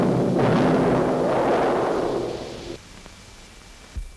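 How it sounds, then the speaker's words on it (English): Four-pound dynamite charge detonated underground for seismic oil exploration, heard as a loud, deep sustained rumbling roar that swells and holds for over two seconds before cutting off, with a brief thump near the end. "4 pounds of dynamite in this charge."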